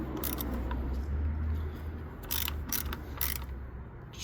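A ratchet with a 10mm socket tightens ignition coil bolts on a Hyundai Accent, with repeated quick clicking bursts of the pawl over a steady low background hum, close to the microphone.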